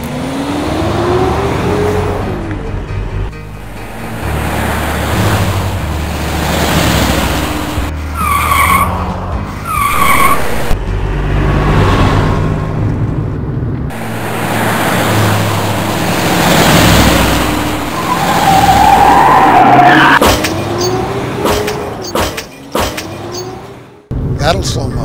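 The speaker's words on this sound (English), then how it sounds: "As I sped out of town, I caught a glimpse of a car in my rearview mirror." In an audio drama car chase, a speeding car roars and its tires squeal in several long skids. Engine surges and rumbling effects continue throughout, loud and close, with brief voices among them.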